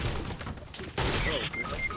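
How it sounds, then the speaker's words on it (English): Gunfire in a survival video game, with a loud burst around the middle and broad noisy shots continuing, heard close under a busy game soundscape. "They're trying to execute me with a shotgun from the top of the roof."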